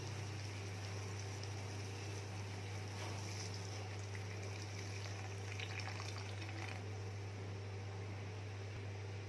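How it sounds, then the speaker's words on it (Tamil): Tamarind water pours steadily into a pot of brinjal spicy gravy with a continuous splashing gush over a strong low electrical hum. "இப்போ இதில் கரைச்சி வச்ச புளி தண்ணி ஊற்றிப்போம்."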